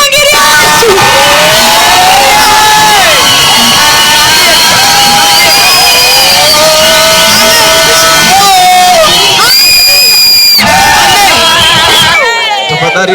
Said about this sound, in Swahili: tunaenda kumpigia Bwana Yesu makofi na vigelegele vingi